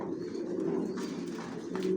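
Racing pigeons of a Janssen long-distance line coo steadily in a loft, a dense, fairly loud chorus of low rolling calls running without a break.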